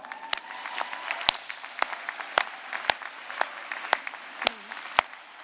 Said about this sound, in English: And I think that deserves a round of applause.